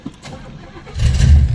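A 1972 Oldsmobile Cutlass V8 with a Holley 750 carburetor and the choke unhooked cranks briefly, then catches and fires into a loud, low roar close by.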